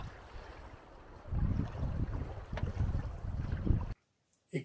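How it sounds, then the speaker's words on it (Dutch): Sailboat moving across a lake in Norway, water rushing and wind buffeting the sail as a steady broadband wash for about four seconds, then a sudden drop to near silence. "De wind pakt het zeil op en ik snijd door het water."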